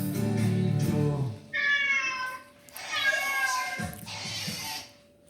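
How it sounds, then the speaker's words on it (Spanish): Two clear cat meows from an animal-sounds recording, each a rising-falling harmonic cry heard alone, with a voice speaking briefly at the start and between calls. "Dime si tú sabes cómo hace el gato."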